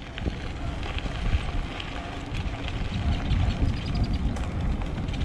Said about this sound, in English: It's a little breezy out, so I don't know how the sound's going to come out.